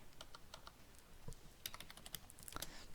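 Computer mouse clicks while working in a graphics editor, a scatter of sharp, quiet ticks, some in quick double-click pairs, close by over a faint background hiss.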